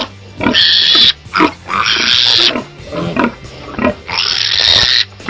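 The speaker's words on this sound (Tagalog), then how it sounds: "Timbangin po natin yung baboy kung ilang kilo na." A young piglet squeals loudly while it is weighed, giving three long, piercing shrieks with brief grunting gaps between them, close and dominant.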